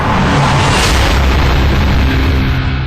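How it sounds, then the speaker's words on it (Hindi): A loud, sustained blast from an explosion during a CRPF operation, a dense roaring rumble that fills the whole span with no break or quiet tail. "क्योंकि अगले ही पल धमाका हुआ।"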